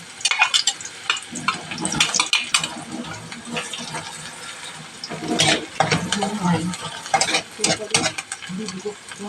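Onion and garlic sautéing in a pan for vegetable lumpia, a crackling sizzle broken by repeated scraping and stirring strokes that swell and fade in uneven bursts, fairly close and loud.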